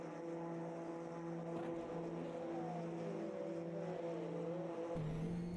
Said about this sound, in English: It sounds like someone's engine's permanently revving like an airplane